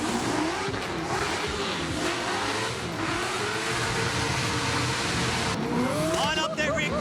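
Drift cars, including a Nissan Skyline R34 spitting flames, rev hard and scream around the track at the Waimate 50 Motorsport Festival drift show in New Zealand, a constant loud engine roar with rising revs and tire squeal near the end, under a commentator's talk.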